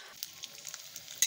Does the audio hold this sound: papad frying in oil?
yes